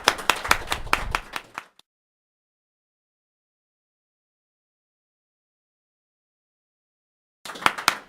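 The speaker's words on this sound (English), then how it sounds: "Give her a round of applause," Clapping for Congresswoman Grace Napolitano at a Christmas show, a short burst of claps that stops abruptly, followed by silence and another brief round of clapping at the end.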